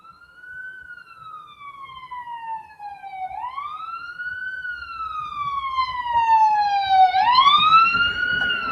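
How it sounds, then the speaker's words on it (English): A wailing siren sweeps up and down in long rising and falling tones, growing louder as it passes outside, with no talk over it. "Please ignore that siren."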